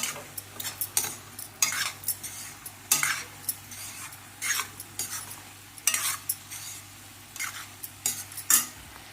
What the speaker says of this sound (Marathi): मॅगी मसाला घालायचा आणि सगळं मस्तपैकी असं हलवून घ्यायचं.